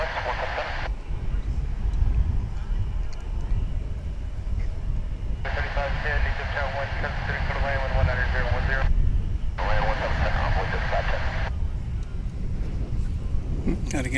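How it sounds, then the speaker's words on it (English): A Delta Airbus A320 takes off from runway 18 left at Dallas Fort Worth with a continuous low jet-engine rumble and wind buffeting. A voice talks over the roar in several stretches. "departing from runway 18 left. It happens. This is Delta Flight 2444 on its way to Salt Lake City, an Airbus"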